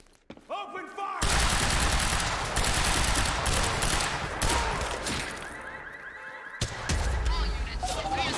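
Gunfire in the Quantum Break video game: a heavy, continuous barrage of overlapping shots and impacts, loud and dense, with a brief dip before it surges again.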